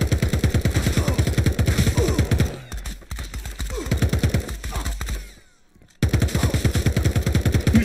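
Rapid automatic gunfire from the video game Radical Heights rattles in dense, steady bursts, thins out midway, drops into a brief near-silence, then resumes just as loud and fast.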